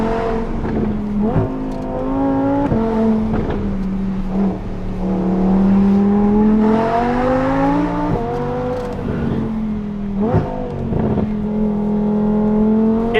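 A high-revving naturally aspirated V10 engine in an Audi R8 V10 Plus screams loudly and continuously on a hillclimb, pitch rising and falling through gear changes, with sharp shift breaks.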